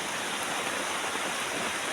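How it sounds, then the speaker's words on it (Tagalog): Heavy rain pours down steadily over a banana planting area on a farm, a dense, even hiss that fills the whole clip with no letup and no voices. "sa tingin ko po maya maya hihinto din po itong ulan."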